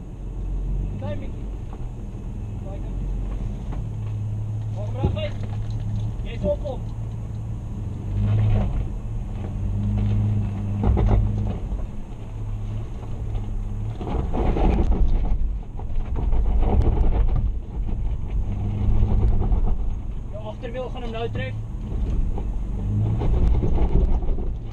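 4x4 vehicle crawling slowly over rocks in the bush at Groenkloof, a low rumbling engine drone with occasional bumps and scrapes, people talking over it and wind buffeting the microphone.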